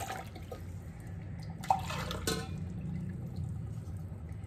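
Water poured from a cup into a mixing container while making a fluffy gelatin dessert, a soft, steady liquid wash with a few small splashes, quiet and close, with no talking.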